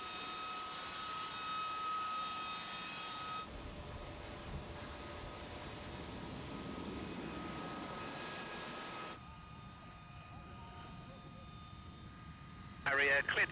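A BAe Harrier GR7 jet engine runs up on the ground before takeoff at an airshow, a steady loud turbine roar and whine with a shift in tone partway through, while a voice talks over the radio.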